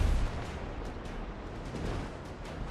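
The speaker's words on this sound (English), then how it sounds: "Those cannonballs were fired straight into the ether." Ship cannons fire in the pirate game Scallywag Windrose, a heavy low boom at the start that fades into a dense rumbling roar of distant blasts across the sea battle, with no talking.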